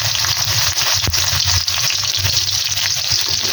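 Chopped onion fries in hot oil in a wok with black cumin and five-spice seeds, giving a loud, steady, close-up sizzle and crackle throughout, with no talking.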